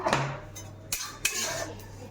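Metal utensils clink and scrape against a pan while lifting out fried cumin seeds, with a few sharp knocks over a low steady hum, no voices.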